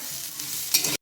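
Khichuri of rice and lentils stirred and fried in a pan, a steady close sizzle with scraping stir strokes that builds briefly louder before cutting off near the end.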